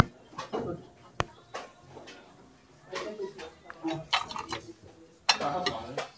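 Ceramic plates clink and knock together at an outdoor German flea market, a few sharp separate clatters near the mic amid faint background talk and market noise.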